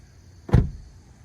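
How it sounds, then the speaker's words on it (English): A door on a 2023 Honda Pilot Elite swings shut with a single deep, solid thud, close and loud against a quiet background. "They shut with a nice, satisfying thud."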